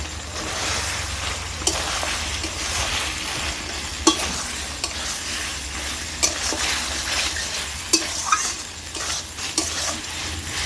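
Chicken fries in a pan with slit green chillies, a steady loud sizzle with a spoon stirring and scraping against the pan at irregular intervals, no talking.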